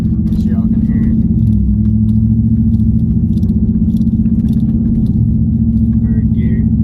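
A lifted 2014-2015 Chevrolet Silverado running with no muffler pulls away slowly, its exhaust giving a loud, steady low drone and rumble close by that swells slightly as it moves off.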